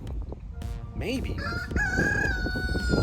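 A rooster crows once nearby, a rising then long drawn-out call, over a soft background of clucking and outdoor noise.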